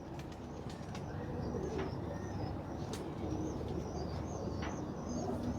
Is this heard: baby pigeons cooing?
yes